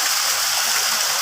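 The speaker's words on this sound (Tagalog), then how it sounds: "Ito ang Pinagpatungan Falls." Pinagpatungan Falls, a waterfall set among mountains, roaring as a loud, constant rush of falling water with no break.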